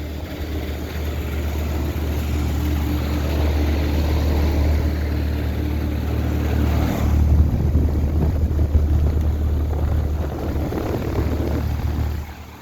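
A 2017 Carrier Sentry heat pump runs in heat mode outdoors, giving a loud, steady low hum from the compressor with a broad fan whoosh throughout, close and unbroken with no talking.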